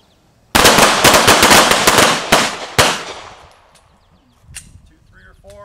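A volley of pistol shots at an outdoor combat-focus shooting course in Nebraska, roughly ten sharp, loud reports fired in a rapid uneven string, then trailing off into quiet with a few faint voices afterward.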